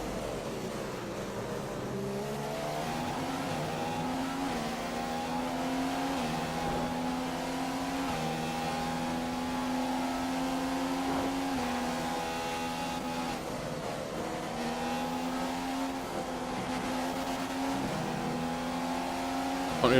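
Formula One car engine in the F1 2015 racing game at the Australia circuit, sustained high-pitched scream climbing through gears with brief dips at each shift, steady and prominent throughout.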